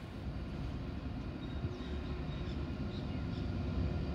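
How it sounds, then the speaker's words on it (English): A DNR class freight train rolling past platform 2 at Chester Hill station, a steady low rumble of wheels and wagons with faint high squeals above it. "we have the freight train, DNR class, passing nearby platform number 2"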